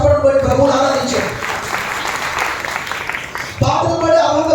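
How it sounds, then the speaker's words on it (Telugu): Congregation clapping loudly during Sunday Pentecost worship in a church in Nellore, a sustained burst of many hands in the middle, framed by a preacher talking before and after. "బిగ్గరగా చప్పట్లు కొట్టి ప్రభువును ఆరాధించాడు."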